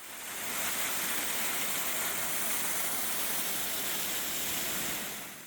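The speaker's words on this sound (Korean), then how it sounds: "이 폭포는 블루로드 해안폭포인데요." Steady, dense rush of falling water with a broad roar, continuous and close: a small coastal waterfall on Korea's Yeongdeok Blue Road pouring straight into the sea.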